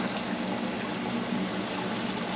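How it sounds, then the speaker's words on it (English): Water from a hose splashes onto heated PVC pipe being cooled after oven bending, a constant dense close rush without a break. "Let the water splash on there. It'll cool off."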